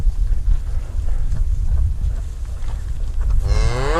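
Cattle being gathered for processing moo under steady, blustery wind noise; the low bellowing rumbles continuously across the scene, loud and close, with a rising call toward the end.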